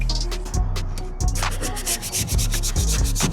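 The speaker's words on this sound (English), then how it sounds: "We'll get some grey scotch on there, get it all keyed up ready for primer." A grey scotch pad scuffs and keys old car paint ahead of primer on a failed repair, giving a continuous close, rough rubbing sound with rhythmic back-and-forth strokes.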